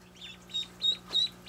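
Pet parrots call inside a house, giving three or four short, high chirping whistles in quick succession, fairly faint against a low steady hum.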